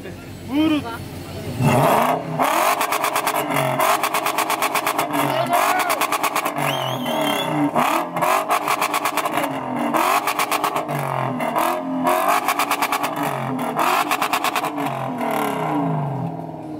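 A tuned BMW E39 M60 V8 engine revs repeatedly in loud bursts, rising and falling, with people talking over it at a BMW car meet.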